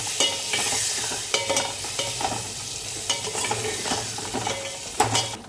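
Chopped carrot and fried potato being stirred into a vegetable pulao in a pan, with irregular close scrapes and clinks of a utensil over a soft steady sizzle.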